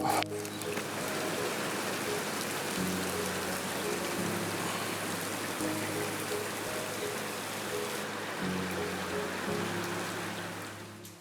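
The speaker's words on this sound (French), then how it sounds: "Allez, il pleut." Steady rain pours down, a dense, even hiss of drops striking surfaces that holds unbroken for the whole stretch, with a low hum faintly underneath.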